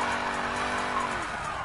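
Car driving in the racing video game Need for Speed Payback, a steady loud engine drone with a tire squeal or skid sliding down in pitch near the end.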